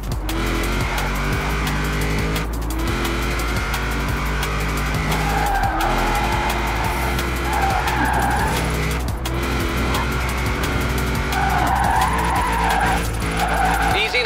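Forza Horizon 4 car drifting through tight turns: a continuous loud engine roar under sustained tire squeal and skidding, with pitch rising and falling through the corners.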